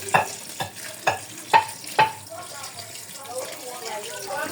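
A few hollow knocks of a spoon stirring a pot of cocoyam soup as water is added, followed by a soft bubbling simmer.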